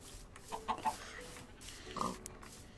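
A chicken in the video game Minecraft clucks a few times, soft short calls near the middle and end over quiet in-game ambience.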